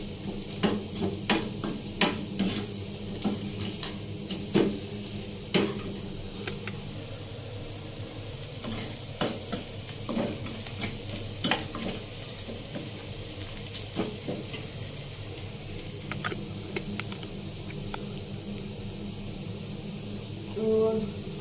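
Masala sizzles steadily in a pan while a spoon scrapes and clinks against the metal in irregular stirring strokes, close and moderately loud throughout.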